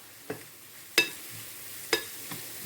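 Onions caramelizing with a little sugar in a frying pan get stirred, with three sharp scraping knocks of the utensil at uneven intervals over a faint steady sizzle, close up and without talk.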